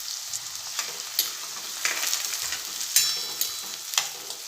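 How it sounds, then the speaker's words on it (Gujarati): Chopped onions sauté in a pan for Mehsana-style dungaliyu, a continuous bright sizzle punctuated by repeated spoon stirs and clinks, close and clear with no talking. "પહેલાં આપણે આમાં ડુંગળીને સાતળવાની હોય છે, તો પહેલાં આપણે ડુંગળીને સાતળી લઈશું"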